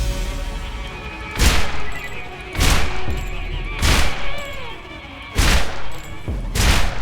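A burst-fire gun in a video game lets off five tight, loud bursts of rapid shots, each roughly a second apart, spaced by quieter stretches of humming game ambience.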